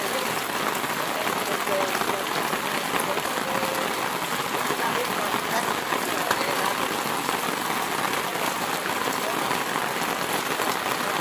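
Steady rain falls on a mountain, a dense, even hiss of drops on surfaces that holds at moderate level without pause, with faint voices underneath.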